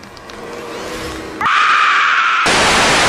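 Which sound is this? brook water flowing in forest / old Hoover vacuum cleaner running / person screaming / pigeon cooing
person screaming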